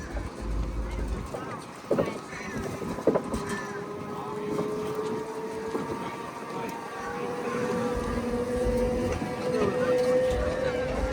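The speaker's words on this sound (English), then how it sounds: "So sorry about the wind, guys. It's so windy," Gusty wind roars and buffets the microphone continuously at an outdoor craft show, with a low rumble underneath and faint voices in the background.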